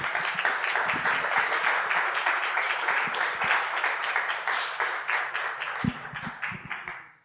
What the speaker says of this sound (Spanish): Recibamos a nuestro ponente con un cálido aplauso.